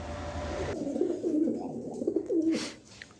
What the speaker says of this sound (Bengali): খুবই বিগ সাইজের কবুতর, এক পেয়ার কবুতর